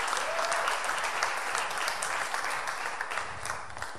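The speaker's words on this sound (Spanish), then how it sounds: "Denle ese aplauso al Señor" Congregation applause during a Spanish-language church service, a full, dense wash of many clapping hands, loud and sustained before easing slightly toward the end.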